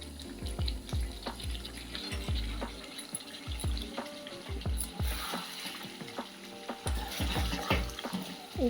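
Hot water poured into a pan of simmering Bengali chicken curry, bubbling and sizzling up close with gurgles and pops that rise and fall, no voices.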